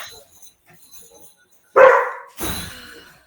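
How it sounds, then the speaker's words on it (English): A dog barks over an online call, one loud close bark followed by a second rougher bark after a short gap, with faint speech before it. "Uh-oh, I hear your dog."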